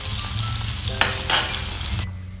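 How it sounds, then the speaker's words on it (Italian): Broth hits hot oil in a pan while pumpkin cooks for a spaghetti sauce, giving a loud, close sizzle with spoon strokes and a sharp hissing burst partway through before it suddenly cuts off. "ricordatevi sempre di abbassare la temperatura, dell'olio, mettendo un po' di brodo"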